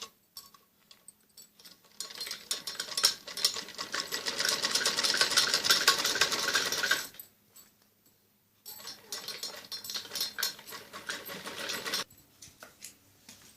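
Electric sewing machine stitching buckram onto the extra fabric of a kameez neck strip, running in a steady whirring burst for about five seconds, pausing, then starting again in shorter runs.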